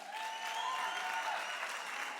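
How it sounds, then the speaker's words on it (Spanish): Church congregation applauding during a Spanish-language service, a steady, fairly faint wash of clapping from many hands lasting about two seconds. "¿Qué tal si le damos un mega aplauso al Señor?"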